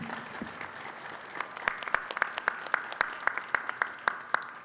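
Applause at a farm bureau convention for the judges, starting as a soft scattered patter, then sharpening into distinct, fairly regular claps from nearby hands over a low crowd murmur.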